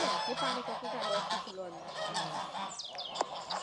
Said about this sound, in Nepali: कुखुरा हो भाले ए भाले यो भाले गाइस